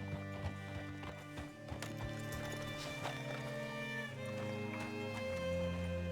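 In the video game Red Dead Redemption 2, a horse's hooves clip-clop in a steady walking rhythm, close and clear, over a sustained musical score.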